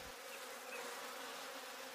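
Honeybees at a beekeeper's hives in a Sichuan mountain village in winter make a continuous, faint buzzing drone, alone with no voices.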